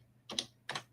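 Two quiet, separate keystrokes on a computer keyboard are typed during a Git command-line session, with a short pause between them against faint background hum.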